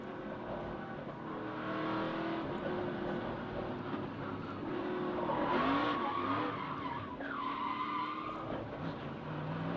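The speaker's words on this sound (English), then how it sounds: "Another spin by Connor Zilich, but he keeps it running." A race truck spins out at the XPEL 225, tires skidding and squealing across the pavement while engines drone and rev steadily around it, the skid rising in pitch midway before easing off.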